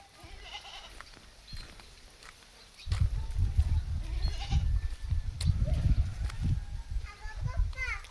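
A goat bleats repeatedly nearby, loud and insistent, with children's voices chattering in the background.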